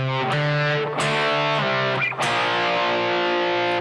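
Distorted electric guitar plays a song intro as power chord slides, shifting down in quick chord changes with bright, saturated sustain and a brief pitch slide between them. The guitar is loud and close, with no talking.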